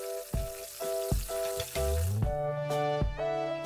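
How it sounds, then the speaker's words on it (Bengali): Okra (bhindi) frying in hot white or mustard oil, a steady close sizzle with a few clinks and stirring knocks cutting through it. "ভিন্ডিগুলোকে ভেজে নিতে হবে"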